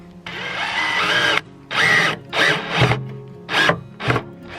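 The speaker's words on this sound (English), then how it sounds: "So I'm gonna screw in the top one first." A power drill drives number 8 screws into thick wood for a raised garden bed, with one long whirring run followed by four shorter bursts, close and loud.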